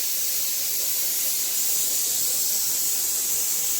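A pressure cooker lets out a loud, steady steam hiss that runs without a break for several seconds, with no talking over it.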